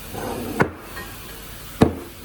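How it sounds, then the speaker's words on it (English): Two sharp metallic strikes of a hammer on a chisel cracking the race of a wheel bearing from a 2010 Ford Fusion, spaced about a second apart, close and loud against a quiet workshop background. "I put a chisel in there and I hit it with a chisel and it cracks it"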